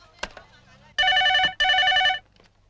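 A telephone bell rings in two long electronic trills during a call, loud and close, with a short pause between bursts and brief talk before.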